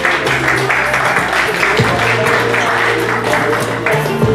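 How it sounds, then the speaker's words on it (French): Wedding guests clap together in a dense, steady burst of applause at a French-Guinean wedding in Amiens, loud and close, with music or a low hum beneath and faint voices mixed in. "On applaudit aussi, s'il vous plaît."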